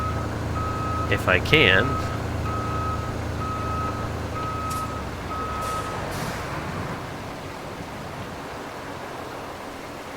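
A work truck reversing in the RoadCraft video game, its backup alarm beeping in a steady, evenly spaced series over an engine drone, with a brief hiss and someone speaking early on.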